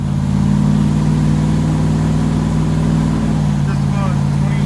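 A 2015 Ram 6.4 pickup engine with a Flowmaster FX exhaust gives a steady, loud, low rumble at about 2,300 rpm while climbing a slight incline, continuous throughout.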